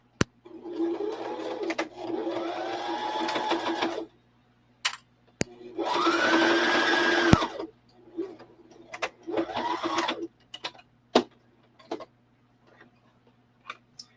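A sewing machine stitches darts in several short bursts of motor whir, some rising and falling in pitch, broken by pauses full of sharp clicks and ticks, close by with no talking.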